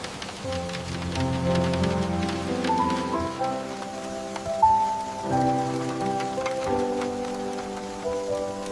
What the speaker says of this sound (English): Get the tent up before the downpour hits.